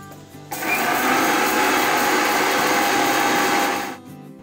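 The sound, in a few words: mixer grinder grinding dry spices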